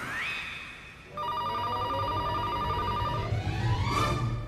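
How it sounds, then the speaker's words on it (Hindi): Telephone ringing indoors in a household, a steady electronic ring tone holding for a couple of seconds, followed by a rising sweep, loud and alone. "अरे उठा ना जाके फोन।"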